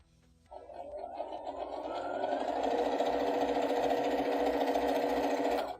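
A sewing machine stitches a seam on a quilt heart block, starting after a half-second pause and running at a steady, close, moderately loud hum until it stops at the end.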